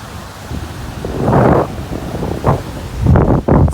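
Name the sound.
hurricane wind and surf at the beach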